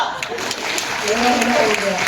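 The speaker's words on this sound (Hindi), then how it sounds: "तालियां।" Colleagues at a retirement farewell applaud in a short burst of clapping, with voices and some tonal sound mixed in beneath.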